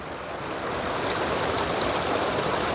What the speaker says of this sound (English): the water's running down through there